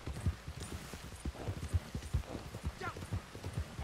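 Horse hooves from a rider in the video game Red Dead Online, a steady galloping clip-clop close by, with a brief faint voice partway through.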